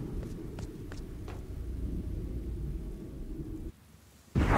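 A lightning storm in the game Wolcen: Lords of Mayhem: a steady low rumbling roar of thunder and rain, fading briefly before a sharp loud crack at the end.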